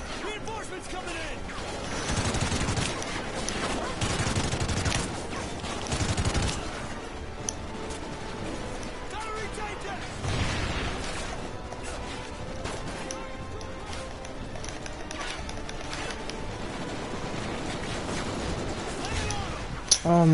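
Sustained suppressive gunfire in Call of Duty Ghosts comes in dense, crashing bursts and sputters across the whole stretch, with voices shouting over the shooting.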